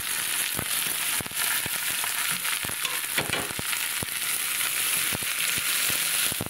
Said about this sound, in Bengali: এবার এই ফলগুলো তেলের ওপরে দিয়ে দিলাম।